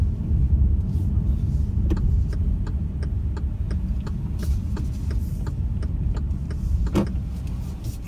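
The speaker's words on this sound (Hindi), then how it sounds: "तो अभी अपन लगाते हैं गाड़ी" A Hyundai Elantra rolls slowly into a parking space, its steady low engine rumble and road noise running throughout, with faint ticking clicks along the way.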